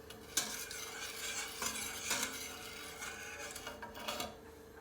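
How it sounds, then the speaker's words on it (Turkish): Chocolate milk pudding being stirred in a pot, a spoon scraping and swishing in steady repeated strokes, close and fairly quiet, with no talking. "Kıvamı koyulaşana kadar bu şekil karıştırıyoruz."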